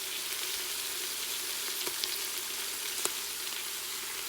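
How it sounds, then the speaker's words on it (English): Onions and green peppers sautéing in a pot for habanero salsa give a steady, fairly faint sizzle with a couple of soft stirring clicks. "So we're going to go ahead and turn the saute off now."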